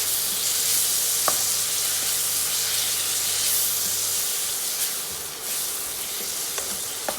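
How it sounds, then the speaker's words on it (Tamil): Soy sauce and sweet soy sauce hit a hot pan for ginger chicken and keep up a steady, close sizzling hiss, with a few faint clicks and no talking. "இப்போ நாங்கள் அடுப்பை கொஞ்சம் நல்லா குறைச்சிட்டு இந்த சோயா சாஸையும் இந்த ஸ்வீட் சோயா சாஸையும் விடுவோம்"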